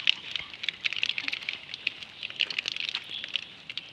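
Mustard seeds splutter and pop in hot oil during outdoor home cooking in the rain, giving sharp, irregular crackles that cluster and scatter over a faint background hiss.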